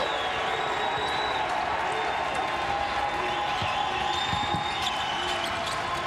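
A basketball crowd at the Fertitta Center in a college game against Western Kentucky gives off steady arena crowd noise. Scattered cheers and claps sit among ball bounces and sneaker squeaks, with a commentator talking over it.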